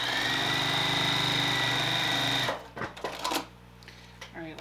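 A sewing machine runs at a steady fast whir for a couple of seconds while tacking down quilt fabric, then stops, leaving light clicks and handling noises of the fabric and machine.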